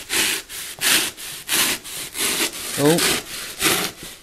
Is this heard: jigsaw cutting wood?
yes